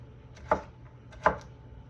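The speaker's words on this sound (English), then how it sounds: "I'm just dicing up my onions" A kitchen knife dicing onions on a cutting board, two distinct close chops about three-quarters of a second apart over a quiet background.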